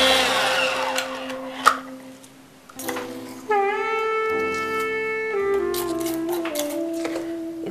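An electric mixer running steadily on speed 3 through cupcake batter, a sustained motor hum with a shifting whine, interrupted by a few clicks and knocks, loud and close.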